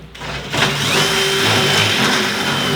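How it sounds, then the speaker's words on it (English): A drill bit boring a new hole for pins, starting after a brief pause into a continuous loud whirring grind with a steady pitch that wavers slightly, close by with no voices. "I got a drill bit. We're gonna have to make a new hole for my new pins."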